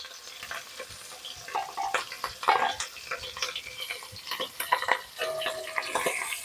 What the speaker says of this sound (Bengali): তেলটা আমার গরম হয়ে গেছে। এবার আমি ডিমগুলো দেব।